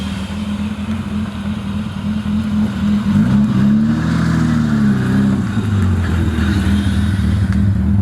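BMW E30 engine running in a garage, a steady loud idle that rises into a revving swell mid-way and then settles back to idle, close and continuous with no talking.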